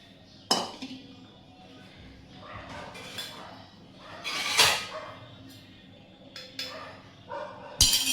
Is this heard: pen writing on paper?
no